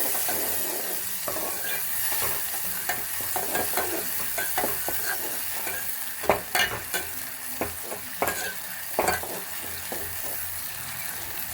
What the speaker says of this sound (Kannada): ಒಂದು ಟೊಮೆಟೋನ ಪೇಸ್ಟ್ ಹಾಕ್ತಾಯಿದ್ದೀನಿ ಹಸಿ ಸ್ಮೆಲ್ ಹೋಗೋವರೆಗೆ ಚೆನ್ನಾಗಿ ಫ್ರೈ ಮಾಡಿ